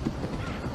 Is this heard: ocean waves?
no